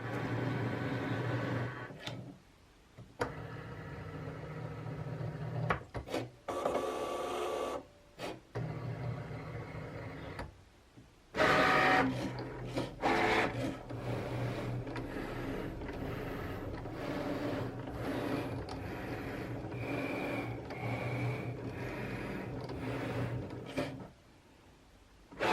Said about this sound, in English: I can go ahead and send my design to the Cricut.